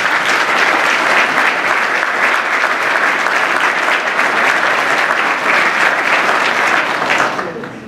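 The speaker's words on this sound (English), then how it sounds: "I think you should give all of yourselves a round of applause." Sustained, dense applause from an audience at a sports awards ceremony, loud and steady throughout before tapering off at the very end.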